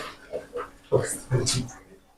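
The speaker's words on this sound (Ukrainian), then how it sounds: "Хряк." Boar pig grunting in a farrowing barn near a sow and piglets: several short, low snorting grunts in a quick irregular series, close and fairly loud.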